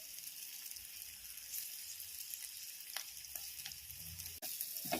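Ground roasted spices are stirred into oil in a frying pan while making olive pickle, a steady low sizzle with a few soft scraping stirs, close and quiet, with no voices.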